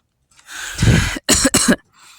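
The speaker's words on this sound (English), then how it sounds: "Apologize for my scary cough." A person coughs several times, a short harsh burst followed by two quick louder coughs, close to the microphone with no talking.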